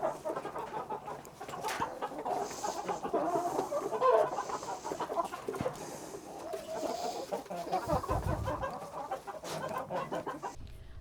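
Several chickens clucking steadily and close by, a continuous busy layer of overlapping clucks from a flock being fed, with no talk.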